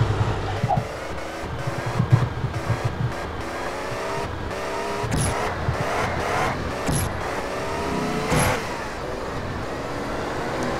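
A car driving in a gangster video game, engine droning and shifting at moderate level with a few sharp bumps and clicks along the way, no talk.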